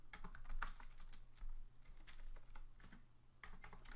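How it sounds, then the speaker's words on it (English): Rapid typing on a computer keyboard, a close, continuous patter of clicking keystrokes with irregular rhythm and no talk. "I just typed the text in"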